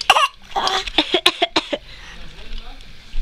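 A young child coughs a few times in short harsh bursts, close to the microphone, with an adult voice talking around the coughs.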